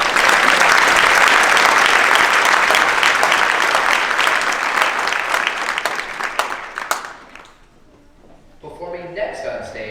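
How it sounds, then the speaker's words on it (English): Sustained loud applause from an audience in a performance hall thanking custodial staff, a dense wash of clapping that fades out toward the end as a voice begins speaking. "Please give them a big round of applause and help us thank them"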